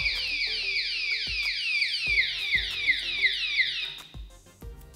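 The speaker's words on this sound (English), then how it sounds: "if they continue work moving your bike, the alarm is gonna go off" A DŌST bike alarm lock going off: a loud, repeating electronic siren of rapid descending sweeps, about a dozen in a row, each with a sharp click, alone without talk.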